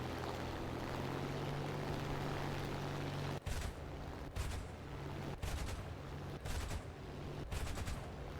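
An enemy aircraft drops bombs in a flight combat video game, with a steady low engine drone cut by a series of about five sharp explosive bursts spaced roughly a second apart.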